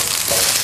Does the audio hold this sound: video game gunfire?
no